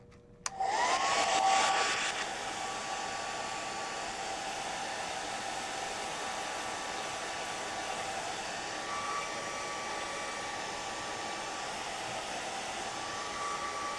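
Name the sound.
dryer blowing to dry a gelli plate print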